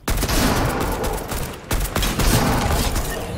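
Rapid gunfire crackles almost nonstop in a Fortnite match, loud dense bursts with only a brief break midway.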